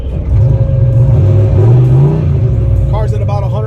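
A 30-year-old Foxbody Mustang with an A9L computer on a street test, its engine revving up hard and rising in pitch as the car accelerates, loud and close, with someone talking over it near the end.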